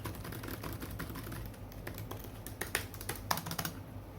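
Rapid, steady clicking of keys on a Lenovo ThinkPad T490s laptop keyboard, close and fairly quiet, with a few louder strokes and no speech.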